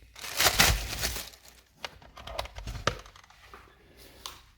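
A tire mobility kit for a 2019 Ford Mustang GT Premium is unwrapped from its plastic packaging: a loud crinkling burst up front, then scattered softer rustles and crackles.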